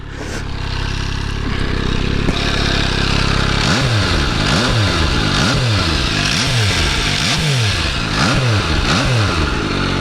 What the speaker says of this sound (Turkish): Merak edenler için küçük bir ses testi yapalım.